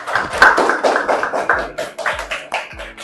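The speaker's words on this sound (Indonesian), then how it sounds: "Beri tepuk tangan dulu untuk kelompok 4." Classroom clapping for a student group, with loose, uneven claps and taps from a modest number of hands, near and fairly loud, some individual claps standing out, without speech on top.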